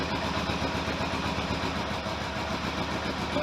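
A GPX750R motorcycle engine idles dead cold up close at about 800-900 RPM, a low, even chugging rumble with a regular beat throughout.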